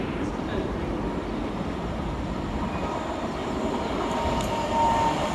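An Elizabeth Line train arrives into a station on the Great Eastern Main Line, a steady rumble of wheels and carriages at moderate distance with a faint brief squeal near the end.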